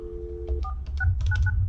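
A Polycom desk phone dialing an extension gives a quick run of short electronic keypad tones, several in rapid succession over a low steady background hum.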